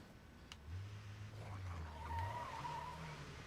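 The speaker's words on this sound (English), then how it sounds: "Can't figure out how to drive this perfectly normal car." In the State of Decay 2 video game, a car skids with a low engine drone and a thin tire squeal rising partway through, all faint and distant-sounding.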